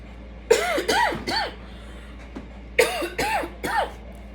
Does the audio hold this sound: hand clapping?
no